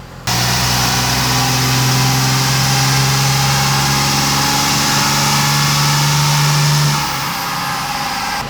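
A 600+ HP 12v Cummins diesel with 350,000 miles on it roars steadily under load on a dyno, a loud sustained drone with strong harmonic tones that holds for about seven seconds before easing off.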